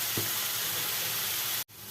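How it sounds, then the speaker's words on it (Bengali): Potato pieces fry in hot oil with salt and turmeric as part of preparing oler dalna, a Bengali yam curry. A dense, steady sizzle and crackle carries close and loud for about two seconds, then cuts off abruptly. Nobody talks. "আলুগুলো আধ ভাজা হয়ে গেছে"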